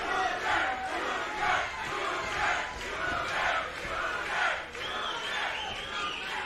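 A live crowd at a boxing event roars and shouts in rising and falling waves, with loud surges about once a second, cheering on the fighters with no clear single voice.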